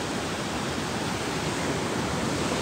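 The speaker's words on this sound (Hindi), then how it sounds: "बहाव देखो पानी का।" Fast, turbulent river water with stones carried along rushes in a mountain stream in Ladakh, a dense, steady roar close by with no talking.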